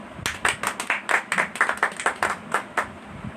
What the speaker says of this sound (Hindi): हम इनको वेलकम करेंगे जोरदार तालियों के साथ